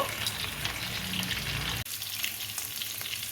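Koi fish frying in oil over a medium flame, a steady close crackling sizzle throughout with a brief dip near the middle before it resumes.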